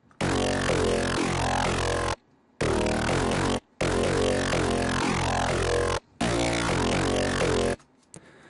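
A single-oscillator synth bass patch with ring modulation plays four loud, dense, gritty sustained notes, each separated by a short silent gap. No voices.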